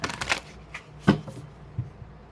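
Tarot cards being shuffled, giving a few soft papery riffles and taps, close and quiet, with one sharper slap near the middle.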